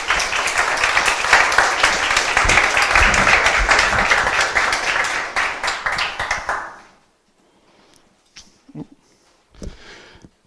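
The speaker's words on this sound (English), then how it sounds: "So round of applause, please." Audience at a comedy night breaking into loud, dense applause that holds steady for several seconds, then fades out abruptly into near silence with a few faint bumps afterward.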